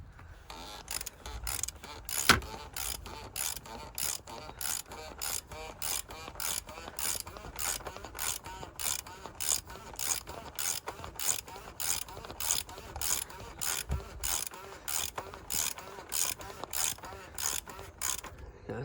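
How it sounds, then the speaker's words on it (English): A torque wrench ratchets on the bolts of a MK6 Ford Fiesta 1.6 TDCI in quick, regular clicks. The close, crisp strokes repeat steadily with no voices. "I'm just going to get my torque wrench and just torque it up to 25Nm."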